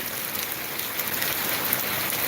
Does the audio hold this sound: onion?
no